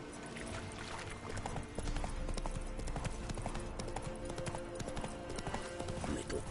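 Horse hooves clip-clop steadily at a gallop in The Witcher 3 video game, a continuous close rhythmic pounding with game music and ambience beneath, and no one speaking.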